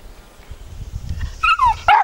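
A dog outdoors gives a few sharp, loud barks close by near the end, after a quiet stretch of faint rustling.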